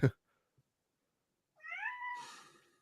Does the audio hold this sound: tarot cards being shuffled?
no